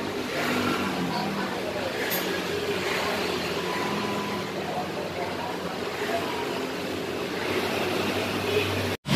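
Honda Scoopy scooter idling, a steady, moderately loud engine drone held for the whole stretch at close range, with no talking, ending in an abrupt cutoff.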